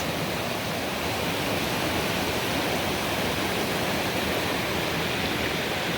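Fast-flowing water rushes over many rocks beside a portage trail on the way to Clydegale Lake, a loud, continuous close-up roar with no pauses.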